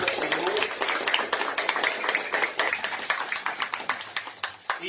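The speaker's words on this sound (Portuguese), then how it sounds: "Salve de palmas ao Senhor." A church congregation claps hands in praise, a dense continuous patter of many hands filling the room at fairly even loudness, with no speech over it.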